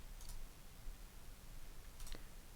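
Two faint, sharp computer mouse clicks come about two seconds apart against a quiet background.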